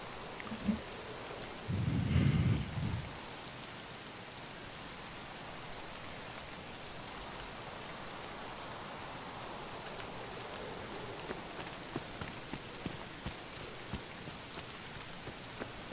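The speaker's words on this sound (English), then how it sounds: "The rain seems quieter" Rain falls steadily on the Interchange map in Escape from Tarkov, a continuous soft hiss with a deep rumble of thunder rolling through early on, then scattered drips and taps over the ongoing downpour.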